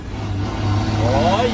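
Road vehicle accelerating with its engine revving up, rising in pitch toward the end of a short stretch, heard under a voice talking.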